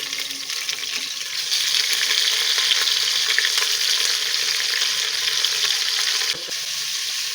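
Half a kilo of mutton frying in oil in a pan with browned onions, a continuous loud sizzle that swells after the first second, with occasional stirring scrapes.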